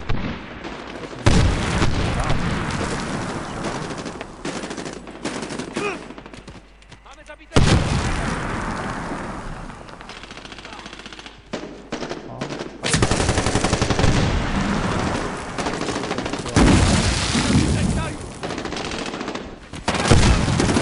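Rapid gunfire and booming explosions from the shooter Medal of Honor Warfighter fill the whole stretch, bursts of automatic fire and blasts repeating loudly with short lulls, while someone talks over the action.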